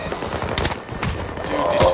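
Turrets in a shooter video game fire repeated rapid bursts of automatic gunfire, sharp and fairly loud, over about two seconds of steady combat noise.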